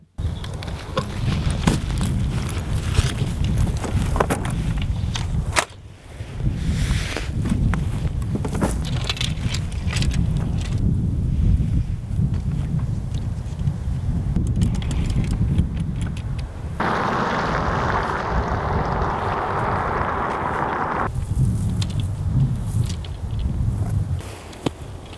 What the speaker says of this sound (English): The wind is definitely blowing up here.